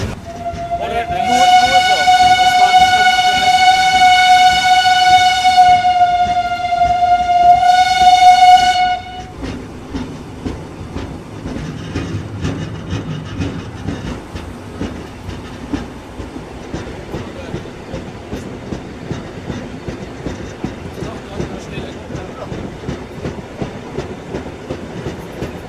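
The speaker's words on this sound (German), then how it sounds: "Tom Steiner genießt das Donnerbüchsenrattern." Rhön-Zügle steam train with locomotive 98 886 on the Fladungen-Mellrichstadt line: a long, loud whistle blast with a short repeat, then steady rhythmic rattling and clattering of the old carriages rolling along.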